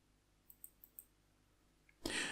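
A computer mouse clicks four times in quick, faint succession during an email-list task, then a short loud rustling burst follows at the end; no one speaks.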